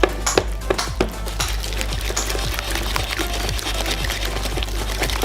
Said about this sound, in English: Using a whisk, mix it.